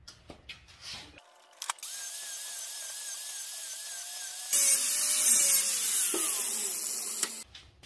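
A Dixie Chopper mower blade is ground to sharpen it, making a sustained whining grind that shifts pitch and grows harsher midway, framed by brief clanks before and after.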